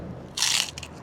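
A single crisp crunch as teeth bite into crackling from Balinese roast pork (babi guling), close and quiet, followed by a couple of softer crackles and no talk.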